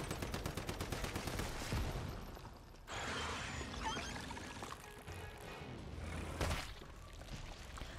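Rapid gunfire against a spider boss in Once Human, fast repeated shots with a watery, rushing character, faint and continuous.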